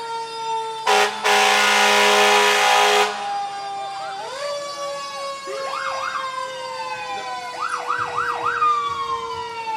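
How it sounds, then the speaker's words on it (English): A fire department's 2003 Pierce engine and 1975 Sutphen ladder truck in a homecoming parade: a loud air-horn blast, then siren wails that rise and fall in repeated whooping sweeps, close by and strong over faint crowd noise. "The Morenci Fire Department is driving their 2003 Pierce engine and a 1975 Sutphen ladder truck"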